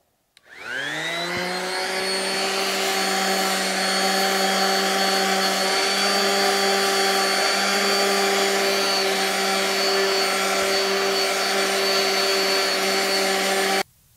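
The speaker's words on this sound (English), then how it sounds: "So I guess we're just gonna go straight to sanding." A power sander grinds rusty paint off the front bumper of a Ford F100. It spins up with a rising whine, then holds a loud, steady, high-pitched drone for about thirteen seconds before cutting off abruptly.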